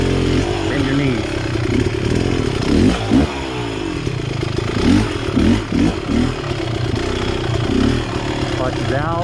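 A Beta X-Trainer dirt bike engine runs steadily and loudly at close range, its revs rising and dipping as the clutch is let out, with a person talking over it.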